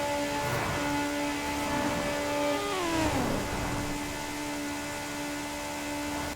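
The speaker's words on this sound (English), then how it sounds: "I'm going to shut up and let you have a listen to the engine." A 2007 Peugeot 207 Super 2000 rally car on BF Goodrich tyres in Forza Horizon 4, its engine droning steadily with a smooth tonal hum that dips in pitch partway through, then settles and holds; no one speaks.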